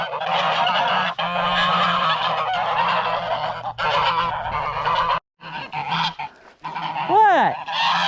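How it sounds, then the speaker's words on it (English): A goose honks repeatedly near a home garden, loud, harsh calls in bursts with brief pauses, one rising then falling honk standing out near the end. "Hi, Mr. Goose"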